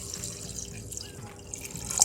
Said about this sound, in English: The water should come above the chickpeas